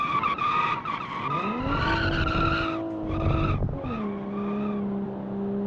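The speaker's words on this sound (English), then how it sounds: "it makes a lot of tire noise" Tires squeal hard under braking on a 1970s Japanese sports car in a driving simulation game, with long, loud, sliding pitched screeches that rise, hold, break off and return over a faint engine drone.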